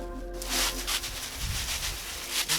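Plastic trash bags crinkle and rustle close up as they are pressed over the engine bay of a Jeep Grand Cherokee. Repeated scrunching and rubbing bursts come in an uneven rhythm over a faint low hum.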